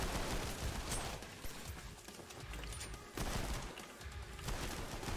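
Rapid bursts of gunfire from the shooter game Trepang 2, faint and crackling in dense volleys with a few sharper shots cutting through the clatter.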